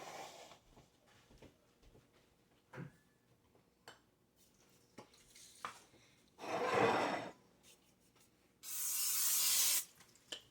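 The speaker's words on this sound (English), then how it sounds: "It doesn't say that I'm supposed to spray that pan, but we're going to" Two bursts of cooking spray hissing onto a baking pan, one short and one longer, close by, after some light clinks and kitchen handling noises.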